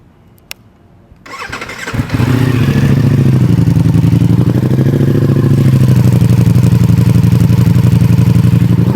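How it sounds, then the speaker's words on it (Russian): A 2025 Ducati Multistrada Pikes Peak V4 motorcycle cranks and fires up after a quiet start, then settles into a loud, steady, throbbing V4 exhaust idle with slight rev swells. "Сейчас я его заведу, покажу, как выхлоп работает."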